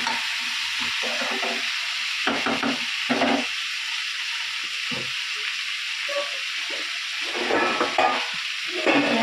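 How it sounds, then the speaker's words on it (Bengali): Mixed vegetables sautéing in a pan, a steady close sizzle with intermittent scraping and stirring strokes of a spatula against the pan surface. "সবজিগুলো দেওয়া আছে, কষা হবে এখন।"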